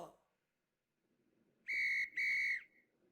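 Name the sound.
dog training whistle blown in a duck hunting video game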